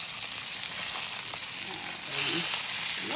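Salmon frying in a pan, giving a steady, even sizzle that hisses on throughout and swells slightly louder near the end, with no talking over it.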